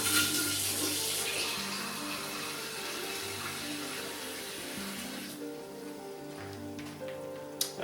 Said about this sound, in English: So I'm going to put water in my mixing cup and dunk it in so it's sitting upright